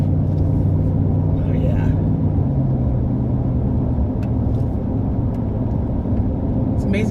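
Steady low interior rumble of a car cruising on a rural road toward Knox City past cotton fields, continuous and fairly loud, with a person talking briefly over it.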